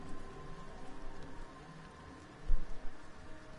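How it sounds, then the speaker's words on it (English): Steady rain pattering on the ground in the video game Everybody's Gone to the Rapture, a soft continuous hiss with a brief louder thump partway through. "See the rain hitting the floor and everything."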